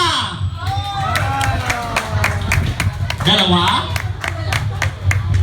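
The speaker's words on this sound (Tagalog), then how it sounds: "Magpalakpakan ang naniwala sa forever." A bar audience at a drag show claps in rhythmic bursts of sharp, repeated hand claps, loud and close, under a host talking over a microphone and crowd chatter.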